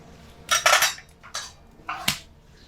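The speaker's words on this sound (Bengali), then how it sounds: "তেল একটু নেড়ে চেড়ে দেবো।" A spatula scrapes and clinks through hot oil in a cooking pan in several short bursts, close and fairly loud, with quiet pauses between the strokes.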